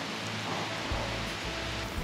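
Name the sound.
heavy rain falling at Angkor temple, Cambodia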